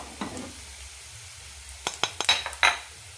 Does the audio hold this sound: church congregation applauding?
no